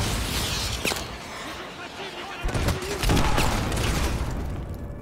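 Gunfire from the Call of Duty: Modern Warfare 2 campaign, with dense, continuous shooting and bursts that swell at mid-clip, mixed with game sounds and a speaking voice.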